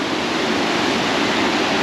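Fast, strong mountain river current, a loud and dense continuous roar of rushing water heard up close with no voices over it.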